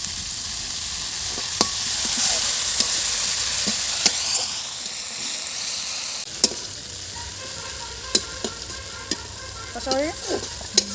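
Spices for a soybean and egg curry sizzle and fry in a pan, a steady hiss broken by sharp scrapes and clinks of a spoon stirring, close and fairly loud.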